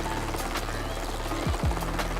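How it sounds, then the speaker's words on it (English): Helicopter hovers low overhead, a loud continuous rotor drone with steady throbbing and a couple of brief swooping sounds near the end. "This kind helicopter pilot decided to take time out of his flight to help this guy"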